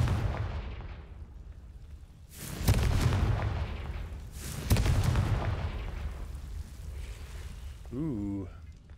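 Spell explosions fired in Hogwarts Legacy, a video game: two heavy booming blasts with long rumbling tails, followed by a short tonal chime at the end.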